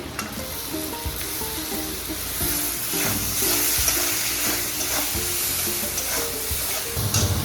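Chopped tomatoes fry in a hot pan for Gujarati-style pav bhaji, a dense steady sizzle with scraping stirring strokes of a spatula throughout, close and fairly loud.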